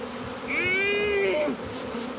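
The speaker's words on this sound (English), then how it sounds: "just covered in bees, man." Buzzing of a bee swarm around a man covered in bees outdoors, a steady harmonic drone that swells loud for about a second in the middle, with a rising whine near the end, then fades back to a low hum.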